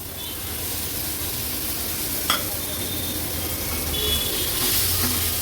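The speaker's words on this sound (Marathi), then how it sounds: "पाव किलो कोलब्या आपण घेतल्या होत्या ह्या ऍड करूया" Prawns tossed into a frying onion-tomato masala sizzle and hiss steadily as they are stirred, a close, continuous frying sound with faint scraping.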